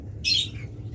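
Pet birds such as lovebirds, budgerigars and cockatiels at a bird seller's shop give one short, bright burst of chirping over a low background hum.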